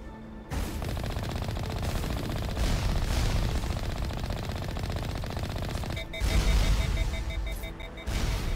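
Gunfire and anti-tank missiles hitting a tank in a video game, heard as continuous rattling machine-gun fire with heavier booming impacts, loud and sustained throughout.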